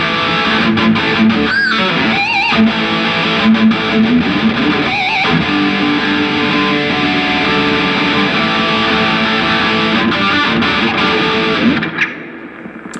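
Stagg electric guitar played through a heavy distorted tone at a music trade fair, loud sustained chords and riffs with a few sharp accents, ringing out alone before cutting off near the end.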